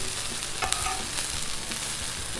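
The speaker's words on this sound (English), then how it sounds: "You can probably hear this food cooking over here" Steady, close sizzling of brats and smash burgers frying on a Blackstone griddle, a continuous crackling hiss with a few brief scraping clicks.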